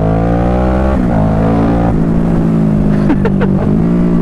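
Kawasaki Z650 motorcycle accelerating hard from about 45, the engine note climbing steadily through the gears with a few quick shift breaks, loud and close throughout, with no talking.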